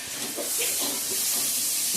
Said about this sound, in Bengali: বাকি মশলাগুলো পরে দেবো একটু ভাজা ভাজা করে নিই